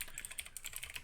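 Rapid, light keystrokes on a computer keyboard while writing code in Unity, a quiet continuous patter of clicks heard close and alone.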